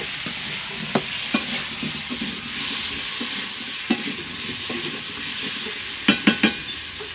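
Potato and papaya pieces fry in a pan with a continuous hiss of oil, broken by sharp spatula scrapes and clinks, a quick cluster of them near the end.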